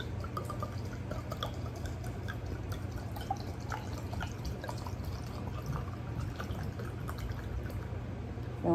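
Vodka poured into a bottle packed with blue vervain herb, a quiet steady liquid trickle with scattered soft drips, close and alone.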